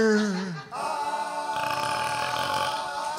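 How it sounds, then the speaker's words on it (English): A loud, low burp sounds at the start of a country comedy song about an octopus, probably made by a performer's voice, then band music continues at full volume. "Then the octopus crawled back in the jar with a burp everyone could hear."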